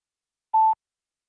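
A single short, clean DTMF keypad tone from a phone being used to enter an amateur radio call sign into EchoLink, loud and isolated against silence.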